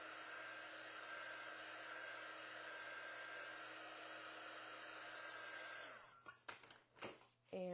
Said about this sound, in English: I'm going to quickly dry that